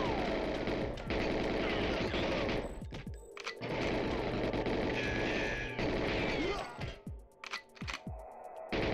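Rapid automatic gunfire from the Xbox game GoldenEye rattles loudly in long, dense bursts, with brief gaps and a few sharp single shots between them.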